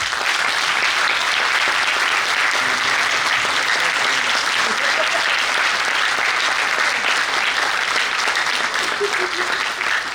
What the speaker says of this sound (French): nous vous prions de bien vouloir acclamer cette équipe